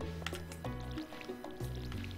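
Watering crops in Stardew Valley, soft splashing and sprinkling sounds repeating in short rhythmic bursts over a background music bed.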